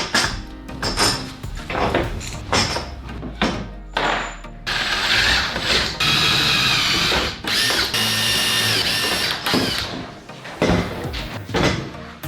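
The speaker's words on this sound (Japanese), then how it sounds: "板を削ってへこみを作ってボルトを止められるようにしたいと思います" A power tool cuts a recess into a wooden board for a bolt head while building a movable workbench base, in loud bursts of several seconds with short pauses and handling clatter between them.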